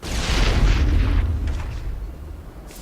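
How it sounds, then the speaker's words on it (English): A missile blast in the video game Mass Effect: one heavy booming explosion that swells in the first second and then rumbles away into a fading tail. "That guy survived a point-blank missile."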